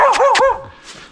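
A dog on a walk around a reservoir gives two quick, close barks followed by a fainter yelp, short and loud with a whiny tone.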